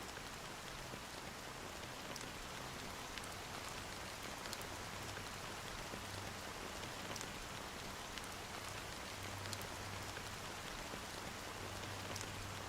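Rain falls in the video game Honkai: Star Rail as a faint, even, continuous hiss of drops on surfaces, steady throughout with no voices.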